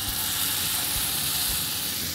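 Tandoori salmon fillet sizzles steadily in hot oil and butter on a grill pan, a loud continuous hiss with no pauses.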